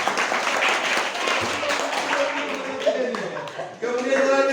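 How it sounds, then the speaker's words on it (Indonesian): Audience applause for the winners at a teachers' jamboree gathering, steady crowd clapping that carries on evenly throughout with no break. "kasih tepuk tangan."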